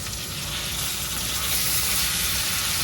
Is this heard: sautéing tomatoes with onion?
yes